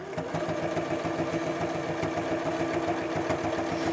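A sewing machine stitches quilt binding at a 3/8 seam allowance with the regular foot, a steady rapid mechanical chatter running close and continuous throughout.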